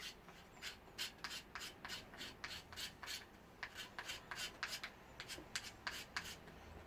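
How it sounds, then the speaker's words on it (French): A knife's edge scrapes a Swissinno fire starter in quick repeated strokes, a crisp rasping close by, faint but clear and without voices. "Donc, je vais gratter avec l'arête."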